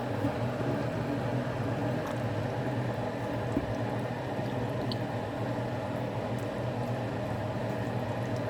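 Noodles boiling in a pot of water: a steady, even bubbling simmer with a constant low rumble, unbroken and moderately quiet throughout, no voices.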